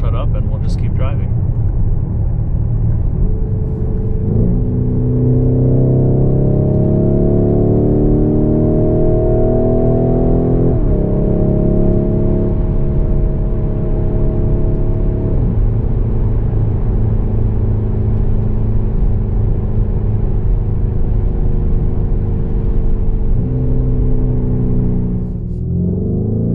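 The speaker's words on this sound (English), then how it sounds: "we'll stay in Corsa mode so that we can kind of pick up on some of these exhaust notes" A 2021 Lamborghini Urus driven in Corsa mode, its engine and exhaust droning loudly up close from inside the cabin, rising through the gears with pitch climbs and drops at each shift, a continuous low rumble throughout.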